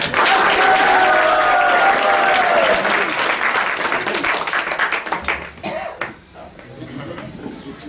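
Loud audience applause at a Hari katha talk in Bhandirvan, dense and sustained, tapering off into scattered claps and murmurs toward the end.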